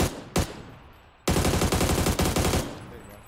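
Automatic gunfire in a first-person shooter video game: one short burst, a pause, then a long rapid stream of shots with a brief gap near the end, loud and close.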